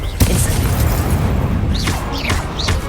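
Incendio fire spell cast in a Hogwarts Legacy duel, a loud burst and roar of fiery whooshing sustained over dense game ambience, with brief high swooping effects near the end.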